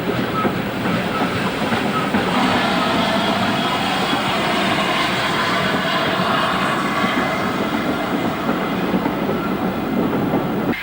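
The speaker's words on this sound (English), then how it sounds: "former Great Western 280 tank number 4277 approaches the station" Former Great Western 2800-class heavy freight tank locomotive No. 4277 approaches a station on a North Yorkshire moors line, a steady, loud rumble with a broad hiss and faint clatter holding constant throughout.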